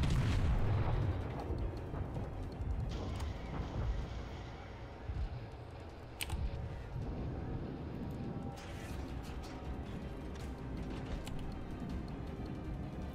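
Naval guns from a Japanese Aoba cruiser in World of Warships boom in a heavy opening burst, followed by a rumbling sea-battle bed with scattered sharper reports and no talk.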